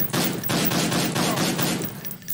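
Rapid bursts of gunfire from the shooter game Rescue Six, loud and close, firing in repeated volleys with short gaps between them and then cutting off near the end.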